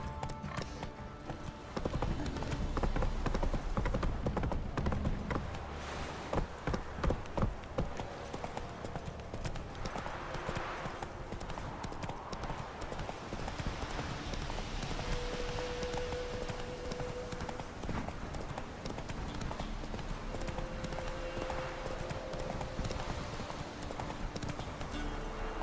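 Hooves of a galloping horse in The Witcher 3, a fast, dense, continuous drumming rhythm close up that stays loud throughout and sits under a bed of wind or rain ambience, with a faint voice briefly heard.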